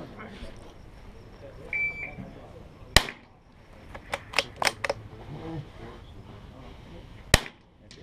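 Rimfire rifle shots fired at a golf ball target 100 yards away, several sharp, brief cracks spaced apart, with people talking between them.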